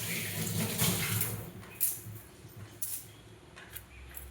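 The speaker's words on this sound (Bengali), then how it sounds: "এবার হাতটা ধুয়ে আসি।" Water trickles quietly from a kitchen tap while hands are washed after mixing ingredients for a steamed hilsa fish recipe, with a few soft splashes and clinks over a faint room background.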